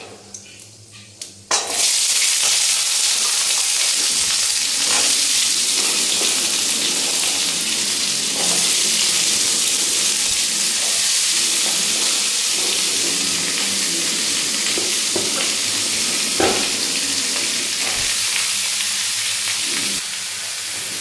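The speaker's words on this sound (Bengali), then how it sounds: "ভালো করে নেড়ে চেড়ে নিয়ে এবার আমি সব সবজিগুলোকে তুলে দেবো।" Vegetables hit hot oil already seasoned with dry red chillies and panch phoron, setting off a loud, sustained sizzle with soft stirring after a brief quiet start.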